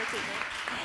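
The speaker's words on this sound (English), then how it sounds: "Please, applause." An audience at a Futurepreneurs 2020 launch-day event claps in a brief burst of steady, dense applause.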